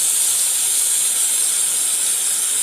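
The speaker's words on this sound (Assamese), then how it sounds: "এতিয়া অকমান পটল আৰু আলুখিনি মই ফ্ৰাই হ'বলৈ দিম" Pointed gourd and potato pieces fry in hot oil, giving a steady, loud, even sizzle with no break and no voices.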